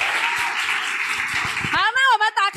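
An indoor audience at an evening business awards event claps steadily, a dense crowd applause at moderate distance before a voice cuts in and speaks over the end.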